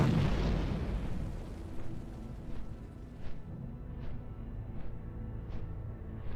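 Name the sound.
bombs exploding in World of Warcraft video game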